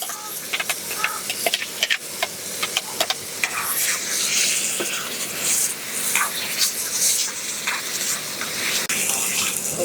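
Ground masala paste hisses and sizzles in a hot pan with softened tomatoes, a loud, continuous frying crackle with scattered sharp pops throughout.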